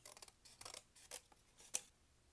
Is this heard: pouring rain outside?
no